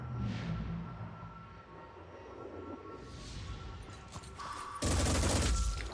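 Enemy gunfire in the turn-based strategy game Terror From the Void: a rumbling fusillade of bursts over a low game soundscape, closing with a loud, sustained blast of fire near the end.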